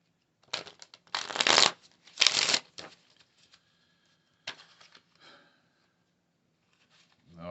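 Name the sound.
tarot cards being shuffled and drawn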